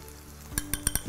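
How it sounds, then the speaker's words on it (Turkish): Soup stirred in a pot for a Turkish noodle soup: a quiet stretch, then four or five distinct clinks and scrapes of a utensil against the pot in quick succession, close up, with no talking. "Yine aynı şekilde karıştırıyorum."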